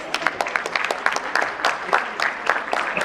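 Applause at a corporate IT industry summit, a steady crowd of clapping hands sustained for about three seconds with no gaps, moderately loud and close.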